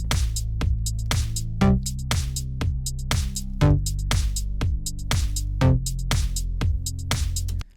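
An 80s synth-pop bass patch from Logic Pro's Alchemy synth plays long bar-length notes, producing a deep, punchy, repeating electronic bass pulse with bright attacks and no other instruments or voices.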